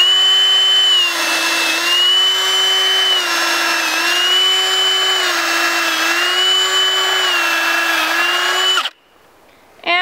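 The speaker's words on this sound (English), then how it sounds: "start a row in between the two that I drilled first" A power drill bores holes into a log for growing mushrooms in Canada, a loud steady whine that holds nearly nine seconds with slight pitch dips, then cuts off abruptly into near silence.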